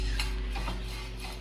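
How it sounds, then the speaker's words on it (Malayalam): Dried prawns being stirred in a hot pan, a close scraping and shuffling with gentle sizzle over a steady low hum, no talking. "കൊഞ്ചിട്ട് കൊടുത്തതിന് ശേഷം നന്നായിട്ടൊന്ന് ഇളക്കി കൊടുക്കണം."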